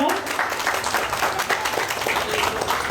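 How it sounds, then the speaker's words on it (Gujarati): An audience applauds at a Bhavnagar municipal ceremony for the PM Awas Yojana housing scheme, producing steady, dense clapping for three seconds with faint voices mixed in. "તાળીઓના ગળગળાટથી આપણે વધાવશું."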